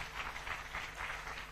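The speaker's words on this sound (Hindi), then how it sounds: "आप मैं चाहता हूं कि आप अपने लिए एक बार जोरदार तालियां बजाएं" A student audience applauding at a college event, a dense steady patter of many hands clapping, moderately distant and sustained.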